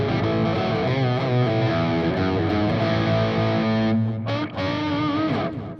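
An electric guitar with distortion plays a sustained, gritty riff of chords and held notes, loud and close, with a brief dip and choppy cut-off near the end.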